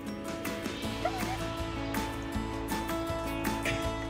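Eight-week-old hand-reared puppies bark and yip in short, repeated bursts at moderate distance, mixed with small whimpers over steady background noise.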